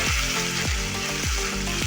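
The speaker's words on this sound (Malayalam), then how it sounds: "കടുക് പൊട്ടുവാണ്." Mustard seeds spluttering in hot oil at the start of a Kerala fish curry, a continuous close frying hiss with repeated crackling bursts.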